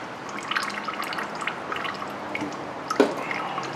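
Motor oil drips faintly during an oil change on a 2013-2018 Cadillac ATS 2.0 L, scattered soft drops over a quiet hiss with one sharper drip partway through.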